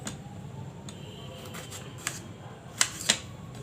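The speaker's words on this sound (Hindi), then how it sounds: "सबसे पहले मैं इस टमाटर को काट देती हूँ" A knife cuts a tomato in a home kitchen with faint, sparse taps and clicks against a quiet background, including a few sharper cuts near the end.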